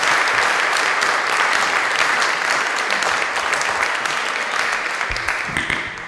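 Sustained audience applause welcoming Rabbi Sacks at a university breakfast gathering, steady and full-bodied clapping that fades slightly toward the end.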